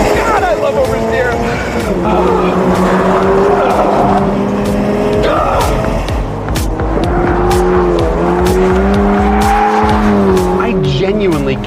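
A Toyota GR86 sports car oversteers with stability control on, its tires squealing in long sustained wails over a loud engine drone, close and continuous; someone speaks over the sound.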